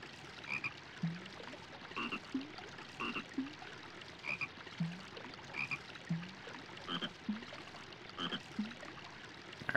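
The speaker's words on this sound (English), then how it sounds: "Oh, look! A cute little frog!" Frog croaking in the video game Barbie Race and Ride, short repeated croaks at roughly regular intervals over a faint watery background, clear and moderately close.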